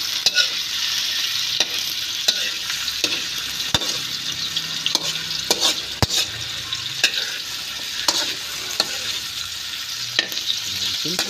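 Tilapia fillets frying in hot oil for an Ilocano-style dish give a steady close sizzle, broken by sharp spatters and pops and repeated scrapes of a utensil stirring the pan.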